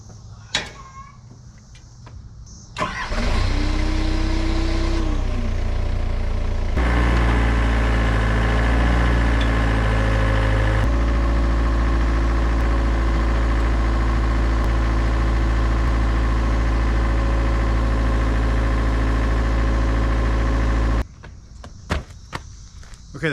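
A Hitachi excavator sitting on a trailer cranks over, starts and settles into a loud, steady diesel idle with a deep rumble, then cuts off near the end. Footsteps and clunks come before the start.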